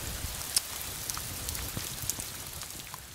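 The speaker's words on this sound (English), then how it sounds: "Great load of rain blowing over." A heavy passing rain shower over a garden with slate paving being grouted, a steady close patter of drops on hard surfaces with a few louder isolated splashes, no talk.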